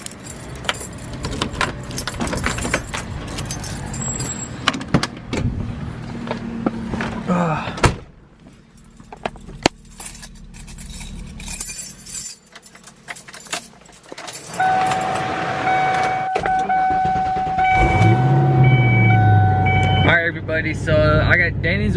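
Keys jangle close by, followed by door sounds and a Foxbody Mustang car cranking and starting, its engine settling into a steady idle toward the end, with a voice talking intermittently.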